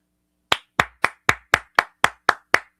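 One person clapping hands, ten sharp evenly spaced claps in a steady rhythm after a brief silence, close and clear with nothing else around.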